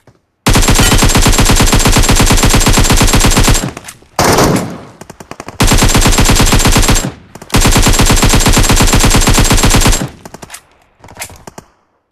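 An AKM assault rifle firing in PUBG Mobile Metro Royale: long, loud, rapid automatic bursts, several seconds each, separated by short pauses with faint rattling in between.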